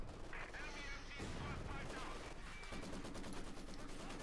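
Dense, continuous bursts of machine-gun fire crackle through a busy WWII strategy-game battle, mixed with other weapon blasts and clatter throughout.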